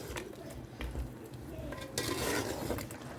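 Continuous stirring and scraping of a green masala paste for chicken pulao in a pan over a steady sizzle, with occasional louder clanks of a spoon against metal.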